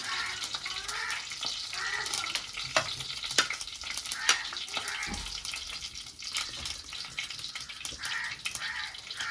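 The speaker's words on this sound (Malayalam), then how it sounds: "നമ്മുടെ കടുക് പൊട്ടി വന്നിട്ടുണ്ട്" Mustard seeds popping and sizzling in hot oil in a clay pot, a steady frying hiss broken by scattered sharp crackles and pops, close and alone without talk.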